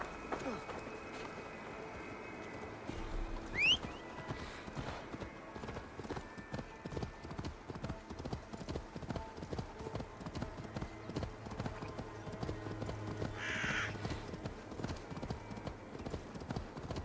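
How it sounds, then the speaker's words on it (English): Horse hooves clip-clop steadily in Assassin's Creed Valhalla as a mount is ridden, a fast, even rhythm of close hoofbeats running the whole time, with a brief whinny-like sound and some game effects over it. "let's take a fucking horse."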